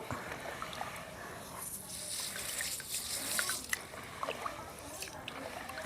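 Ragi (finger millet) being rinsed by hand in a bowl of water for baby food, with soft swishing, sloshing and dripping at close range, fairly quiet and without speech.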